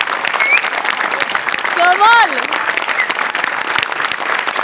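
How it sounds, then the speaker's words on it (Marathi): Loud, continuous studio audience clapping at a Marathi comedy show, with a short voice and a rising whistle-like tone cutting through near the middle. "जोरदार टाळ्या."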